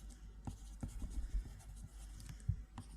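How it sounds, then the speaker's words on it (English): A pencil scratches on paper in a visual novel game, quiet irregular strokes and taps over soft background ambience. "The sound of her pencil scratching against the paper stilled my mind."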